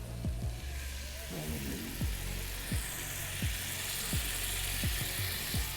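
Garlic noodle sauce sizzles and fries steadily in a hot pan while being stirred in, with soft scraping strokes of a utensil recurring about every half second over the constant hiss.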